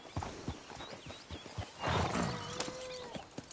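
A horse's hooves clip-clop in a loose, uneven rhythm outdoors, followed by a rougher burst and a drawn-out whinny-like call, moderately close but fairly quiet.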